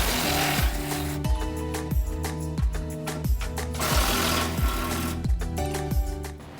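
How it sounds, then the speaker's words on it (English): Power tool spinning out the bolts that hold a wiring harness to a Ford F150 EcoBoost crossmember, a close, loud buzzing drone in rhythmic repeated bursts that each drop in pitch. "Remove the two bolts that secure the wiring harness to the crossmember."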